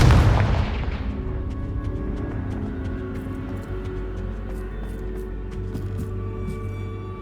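A Confringo fire spell blasts in Hogwarts Legacy: a loud sharp boom at the start, then a long ringing, rumbling decay with faint crackles trailing off.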